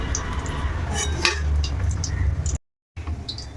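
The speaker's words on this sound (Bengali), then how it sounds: "এখন আলুগুলো সব তুলে ফেলবো" Fried boiled potatoes being lifted out of a pan for chicken biryani, with scattered metallic clinks and scrapes of utensil against the pan over a steady low background hum, with a brief dropout near the end.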